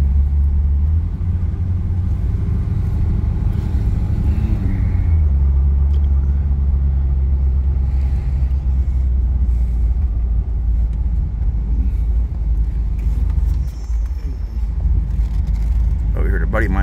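A 1989 Aston Martin Lagonda Series 4 pulls hard under full throttle, its engine a deep, loud, sustained rumble from inside the cabin, easing briefly near the end before resuming.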